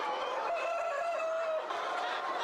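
Tiger breed chickens cluck and call in a large poultry shed on a farm in Kaliganj, Gazipur, with a continuous chorus of overlapping hen voices.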